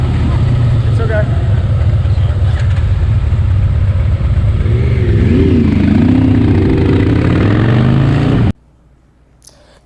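A Yamaha R1 motorcycle engine running loud and close with a steady rumble, the pitch rising and falling as it revs, then cutting off abruptly near the end, with voices faintly under it.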